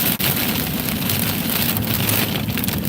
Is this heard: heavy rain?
yes